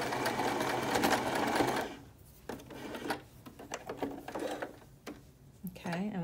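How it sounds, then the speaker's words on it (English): A sewing machine stitches down a curved pocket seam, running in a fast continuous whir for about two seconds, then in short stop-start bursts with faint handling sounds, with a voice speaking briefly near the end. "stitching it down, following the curve."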